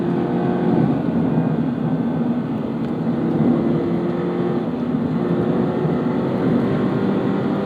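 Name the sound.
Toyota GR sports car driving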